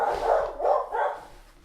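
Several loud, close dog barks in quick succession, three main bursts fading out at the end, with no talking.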